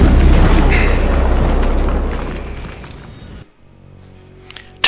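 The Typhoon augmentation in Deus Ex: Human Revolution goes off as a loud, close explosive boom with a long rumbling, crackling burst that fades and then cuts to near silence, with a faint click at the end.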